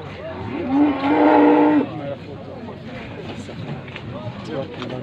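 A cow at a rural livestock market in Ouled Said, Morocco gives one long, loud, close moo. Trader voices and market chatter carry on around it.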